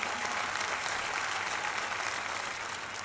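A studio audience at Indonesia's Got Talent applauds in a soft, even wash of clapping that holds steady for a few seconds, heard from a distance and without any voices over it.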